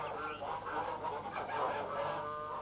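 Geese honk continuously in a loose overlapping chorus, close and steady throughout, with no talk.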